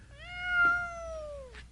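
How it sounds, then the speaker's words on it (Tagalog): A single cat meows once, clear and close, in a long drawn-out call that slowly falls in pitch, with a brief soft knock partway through and a short noisy burst at the end. "May umuungol talaga ng pusa dyan."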